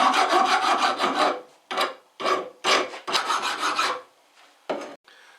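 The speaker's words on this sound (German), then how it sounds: "mit der Feile mal kurz bearbeiten." A hand file rasps along the edge of a steel workpiece being deburred, in a long run of close, loud strokes followed by several shorter separate strokes with brief pauses between them.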